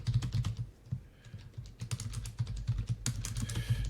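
Rapid typing on a computer keyboard, close and fairly loud, with a quick uneven run of key clicks and a brief pause near the middle.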